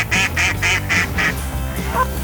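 Mallard ducks quack in a rapid run of five calls, close and loud, followed by a fainter single call, heard outdoors during a duck hunt.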